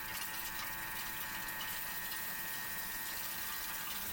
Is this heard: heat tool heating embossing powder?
no